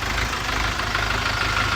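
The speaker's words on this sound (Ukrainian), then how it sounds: "Джинма працює реально тихенько." A Jinma 504 tractor's four-cylinder diesel engine idles quietly and steadily, a close, even low rumble with a faint knocking rhythm and no voices.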